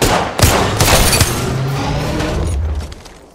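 Apex Legends gunfire rattles in a dense, loud burst of rapid shots with a heavy boom at the start. The firing then settles into a sustained roar that fades near the end.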